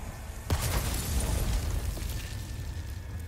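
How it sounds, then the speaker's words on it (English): A bomb blows up in Resident Evil 4 Remake with one sudden heavy boom, followed by a long, loud rumble that slowly fades. "it's a bomb!"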